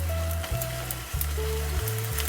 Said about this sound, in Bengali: 2টো তেজপাতা দিয়ে দেবেন।